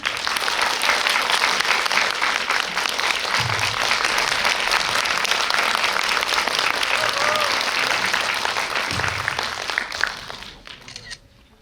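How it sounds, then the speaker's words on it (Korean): A film-screening audience at a post-screening talk for the film Leto applauds to welcome an actor to the stage, with full, steady clapping and a few faint murmurs that fade out quickly near the end. "여러분들 큰 박수 주시면 금방 영화에서 보신 빅토르 최 유태호 배우님께서 함께 자리하시겠습니다. 큰 박수 부탁드립니다."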